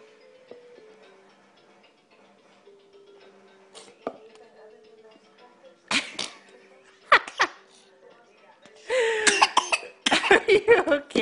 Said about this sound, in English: I'm not going to give you water while you're coughing